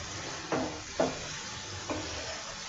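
Beef liver and carrots stir-fried in a pan give a soft, low sizzle, broken by three distinct spatula scrapes against the pan.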